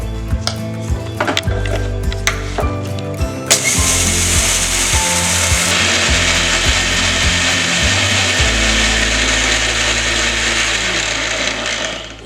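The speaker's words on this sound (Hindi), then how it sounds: "मैं 2 बार में इसको पीसूंगी।" A mixer grinder grinds dry moong dal in its jar, opening with loud rattling and clattering bursts as the lentils hit the blades, then settling into a steady, continuous whirring grind with no talk.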